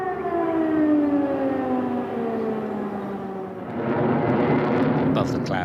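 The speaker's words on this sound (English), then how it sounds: "Air raid sirens blared out across the capital." Air raid sirens wail across a wide area of the Ukrainian capital during the Russian invasion, their long tones slowly falling in pitch, with a rumbling background swelling near the end.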